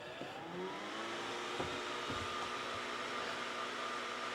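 A Titan waterproof crossflow blower and extractor fan for a motorhome runs at full speed, a loud, steady whooshing roar of rushing air with a faint whine, constant throughout.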